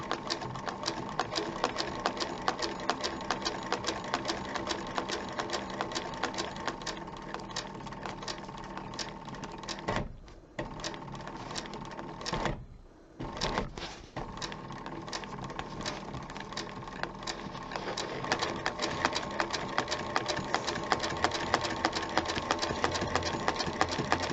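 Sewing machine stitching a zipper onto a classic zip-around leather wallet, a steady close mechanical whir with two short pauses partway through before the stitching resumes.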